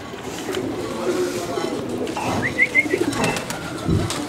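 Khaki pigeon cooing on a rooftop, a few soft low coos and a brief higher call mid-clip, heard close alongside someone talking.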